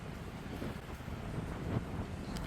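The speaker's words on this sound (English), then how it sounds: "I love the sound of the wind in the trees," Wind blows through pine trees at a cold outdoor spot, a steady low rushing with soft gusts that swell slightly toward the end, with no talking.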